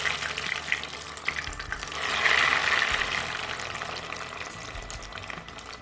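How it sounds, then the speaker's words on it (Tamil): Egg fingers deep-frying in hot oil in a pan, giving a steady, close bubbling hiss that swells louder for a few seconds and then settles to an even crackle. "டிப் பண்ணி வச்சுருக்க எக் லைன்ஸ் எடுத்து எண்ணெயில் போட்டு பொரிச்சு எடுத்துடலாம்"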